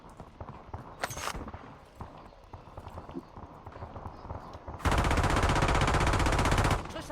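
Gunfire in a Call of Duty match: scattered shots and footstep-like clatter give way to a loud, sustained burst of automatic fire lasting about two seconds.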